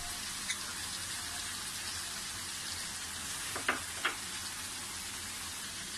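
Mutton with salt, chillies and turmeric sizzles steadily in a hot karahi, with a few sharp scraping strokes of a spoon stirring the pan midway through.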